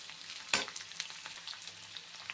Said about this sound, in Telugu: చూసారు కదా ఫ్రెండ్స్, ఇలా ఫ్రై అవుతున్న దాంట్లో గ్రీన్ చిల్లీ ఒక 100 గ్రామ్స్ వరకు తీసుకున్నాను.